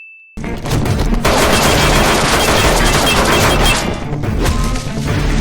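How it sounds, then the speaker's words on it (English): Roughly a dozen rounds are fired into a briefcase in a dramatic scene, heard as a loud, continuous, dense volley of gunfire with crashing impacts that goes on for about five seconds, then eases slightly. "Guy fires roughly 12 rounds into a briefcase that's roughly 2 feet high by 1 foot wide"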